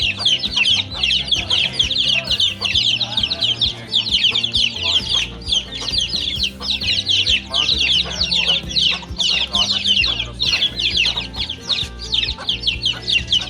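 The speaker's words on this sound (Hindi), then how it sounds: "ये थी चौधरी सलमान साहब के चूजे और उनकी मुर्गियों का सेटअप" A flock of Black Australorp and Rhode Island Red chickens and chicks clucking busily and continuously, many birds close by, with overlapping calls and a low background rumble.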